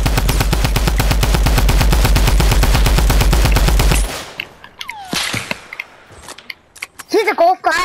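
Rapid burst of automatic gunfire in the Fortnite video game, loud and evenly spaced for about four seconds, then a few scattered game sound effects and brief noises.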